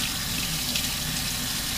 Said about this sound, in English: I'm going to rinse my hand off to remove all the burning coconut oil